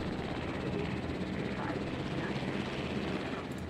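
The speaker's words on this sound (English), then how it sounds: "So there's a transport helicopter." Transport helicopter in Jurassic World: Evolution, a steady broadband rotor and engine drone that holds evenly at moderate loudness throughout, with no distinct blade thumps standing out.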